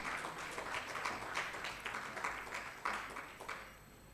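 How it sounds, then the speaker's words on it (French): An audience at a health conference session on national maternal and child health programs in Togo, Côte d'Ivoire and Guinea applauds, a soft, steady patter of many hands with a few louder swells. "Merci d'applaudir."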